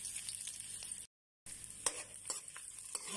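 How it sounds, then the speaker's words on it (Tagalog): Garlic sizzling in hot oil for a chicken caldereta, a steady bright crackle with a brief silent gap and a few sharper pops or stirring scrapes; no talking. "Ayan guys, mainit na yung oil guys ha. Isunod ko yung bawang guys."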